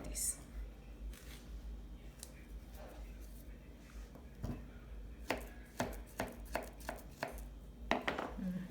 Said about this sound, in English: So I'm gonna cut a little more.